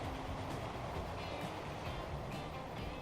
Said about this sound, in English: We've got another train flying along there.